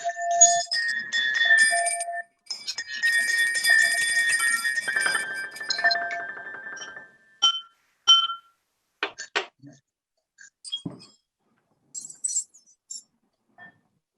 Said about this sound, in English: So now is the time to grab your bell and give it a ring.